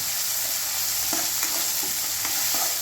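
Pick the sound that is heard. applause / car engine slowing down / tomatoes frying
tomatoes frying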